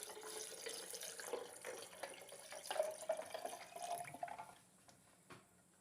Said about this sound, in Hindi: जग में हमने बर्फ़ ले ली है और इसमें हम 3 गिलास पानी ऐड करेंगे।